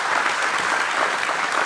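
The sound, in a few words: audience applause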